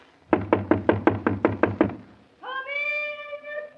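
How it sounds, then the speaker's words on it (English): Eight quick, evenly spaced knocks on a door ring out loud and close, then stop; after a short pause, a sustained high-pitched tonal call follows. "Go ahead, Jonathan Thomas. Knock on the door."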